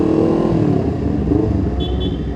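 A group of thirteen motorcycles, including a Honda CBR 250RR, rides together on a Sunday morning ride, with steady loud engine drone and wind rush close to the rider throughout.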